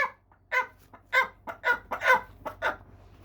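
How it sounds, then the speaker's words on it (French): A live hen clucks in a series of close, distinct bursts, about eight short calls in uneven rhythm with brief pauses between. "c'est un poule vivant"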